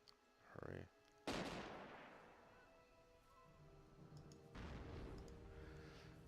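Gunfire and mortar blasts in a Blitzkrieg mod strategy game: two heavy booms with long rumbling tails, separated by a few seconds of lingering battlefield noise, moderately distant and quiet overall.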